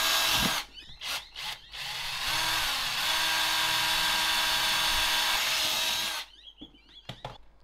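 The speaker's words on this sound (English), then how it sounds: "And drill them out." A power drill bores holes in a metal audio jack bracket for a PC faceplate, a few short trigger bursts followed by one long sustained whine that stops abruptly, then small clicks.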